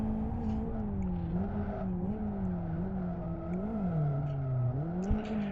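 A Mazda RX-7 FC's engine drones steadily in a drift simulator game, its pitch wavering as the car approaches a corner entry, with faint tire noise and a brief knock near the end.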